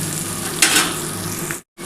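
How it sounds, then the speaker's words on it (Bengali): Water poured into a pan of fried lentil dumplings for bitter gourd curry, a loud hissing sizzle bursting up over steady frying and then cutting off abruptly near the end. "এবার এর মধ্যে আমি কিন্তু জল দিয়ে দিচ্ছি 1 বাটি"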